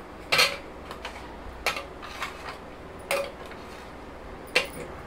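Marie biscuits drop into a bowl while a biscuit caramel cake is being made at home: several distinct clinking taps against the dish, spaced about a second apart, close and fairly crisp in a quiet kitchen.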